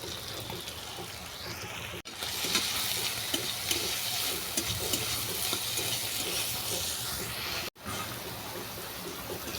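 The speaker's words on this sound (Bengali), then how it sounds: "এবার আমি লাউ শাকটাকে তুলে দেবো" Bottle gourd leaves are stir-fried in a pan with shrimp, salt and turmeric. A close, steady sizzle and hiss carries the scraping and stirring sounds, with two brief breaks and no voices.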